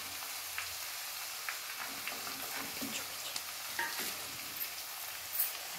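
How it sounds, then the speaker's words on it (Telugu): A spice tempering crackles and sizzles in a pan over low heat, a continuous fine hiss scattered with small pops, with no talking. "చిన్నగా పెట్టుకొని చేయాలి పోపు అనేది, లేదంటే మాడిపోతుంది."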